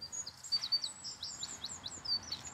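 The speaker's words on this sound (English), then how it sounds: "So if you can't see the bird, but you can just hear them" Birds call outdoors, a quick series of high, thin chirps and short whistled notes repeating over a faint background hush, fairly quiet and distant, with no voices.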